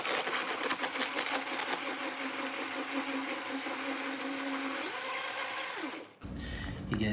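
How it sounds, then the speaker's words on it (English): A blender runs loud and steady, whirring as it blends avocado into a juice smoothie, then cuts off abruptly near the end, leaving a brief gap before other noise returns. "you just want to basically just blend up that avocado"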